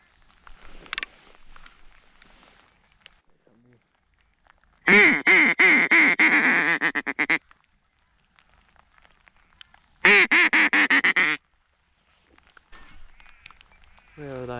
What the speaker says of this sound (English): There's a fair few black ducks over there.